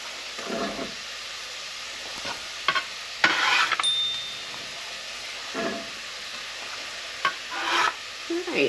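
Onions, carrots and celery sizzle in a pan with a steady, moderate hiss. Several bursts of stirring and scraping rise and fade over it.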